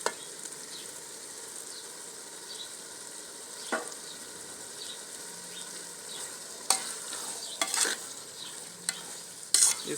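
Beef and potato keema with green chillies frying in a pan, a quiet steady sizzle with sporadic scraping and clattering of a spoon stirring, a few sharper knocks near the end, no voices.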